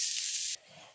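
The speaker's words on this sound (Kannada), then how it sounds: "ಕಾಯಿನ ಸ್ವಲ್ಪ ಫ್ರೈ ಮಾಡ್ಕೊಳ್ಳೋಣ." Grated coconut frying in a pan while cooking mutton sukka, a loud close sizzle and hiss that cuts off abruptly halfway, leaving a quiet low background.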